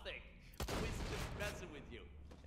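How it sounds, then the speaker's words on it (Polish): Gunfire in the video game Borderlands: The Pre-Sequel: a sharp burst of shots opens a dense, noisy stretch of rapid firing, mixed with game effects and people talking over it. "Ej, strzały Jacka działają."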